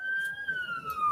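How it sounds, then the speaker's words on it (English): A police car siren wails in a steady, slowly falling tone, loud and continuous, with faint talk underneath. "So what are the lights for? The lights and sirens."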